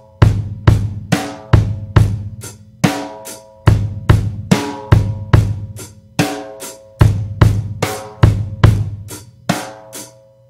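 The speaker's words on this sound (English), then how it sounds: "The next variation, I'm going to add two extra kick drums to the beat" Rock beat variation on a drum kit with hi-hat and two added kick drums, loud close kick and snare strikes in a repeating syncopated pattern with ringing cymbal wash, played alone without talking.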